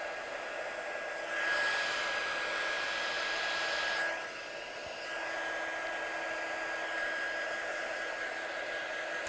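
Hair dryer blowing over wet painted card, a steady whooshing hum that swells louder for a few seconds then settles back to a constant airflow, close and continuous with no talking.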